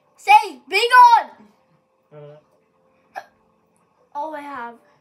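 A child hiccups several times, with loud, voiced, squeaky gulps that come in an uneven sequence separated by quiet pauses, close to the microphone.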